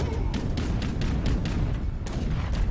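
Rapid booming cannon shots fire one after another in a steady barrage in the video game Age of Empires III, heavy low thuds with sharp cracks, loud and continuous.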